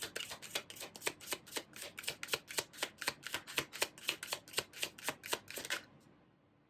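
A tarot deck being shuffled by hand, a fast regular run of about twenty crisp riffling card snaps, close and quiet, stopping abruptly near the end with no voices.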